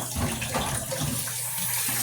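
Steady broadband rush of tap water pouring into a kitchen sink to soak dirty dishes, continuous and fairly close, with no talking.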